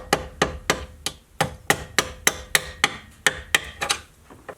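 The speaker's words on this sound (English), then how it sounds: "I'm just going to knock out one of these punches here with a screwdriver." A hammer striking a screwdriver to knock out the punch-out on an electrical outlet box gives a run of about a dozen sharp, evenly spaced metallic taps, close and crisp, with no talking over them.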